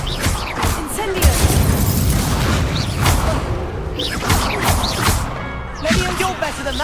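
Incendio fire spell blasts from Hogwarts Legacy, a string of loud bursty booms and crackling impacts layered with game music and shouted voices throughout.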